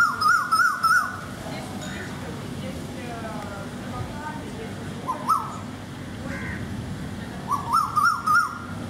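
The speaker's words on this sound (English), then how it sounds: "This bird makes an amazing noise." Loud, harsh rhythmic calls from a large blackbird with a slight blue tinge, on hotel grounds in Marawila, Sri Lanka, come in bursts at the start, briefly midway, and again near the end, with steady background noise between them.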